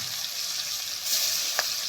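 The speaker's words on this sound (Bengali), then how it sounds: "আমার এক পিস মাছ ভাজা হয়ে গেছে, আমি উল্টাই দিব" Pangas fish frying in hot oil, a continuous close sizzle that swells briefly, with one sharp pop near the end and no voices.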